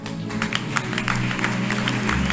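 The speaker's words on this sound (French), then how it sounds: "Honore cette portion des Écritures par tes acclamations." Applause and acclamation from a church congregation during a worship service after a scripture reading, scattered sharp claps over a low sustained hum, with crowd voices mixed in.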